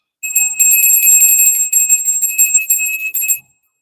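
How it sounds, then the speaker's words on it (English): Solar plexus bell rung to clear energies, a bright, high shimmering ring with rapid repeated strikes lasting about three seconds, close and loud with no talking. "We're going to clear the energies with the solar plexus bell right there"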